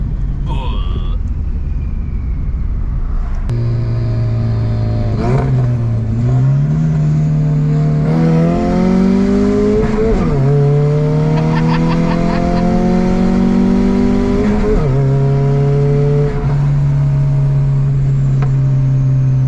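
A car engine revs with a deep, low rumble, its pitch climbing and dropping over several pushes while people talk throughout.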